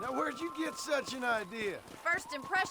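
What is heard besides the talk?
None of the usual background noises is heard.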